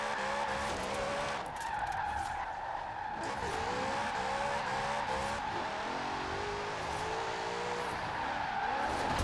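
Tyres of a Lexus RCF with a big V8 screeching continuously while drifting in Forza Horizon 4, a sustained loud squeal with wavering pitch over the engine's steady drone, no talk.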